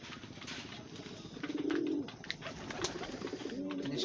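Local domestic pigeons coo softly and steadily at close range in a home loft, with a few brief louder calls rising over the low murmur.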